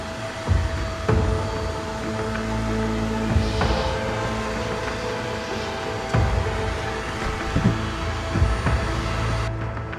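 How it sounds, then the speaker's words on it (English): A vacuum hums steadily while sucking African bees off comb during a hive removal from a pool pump, with faint knocks and bumps over the continuous drone. "so let's vacuum the bees off here"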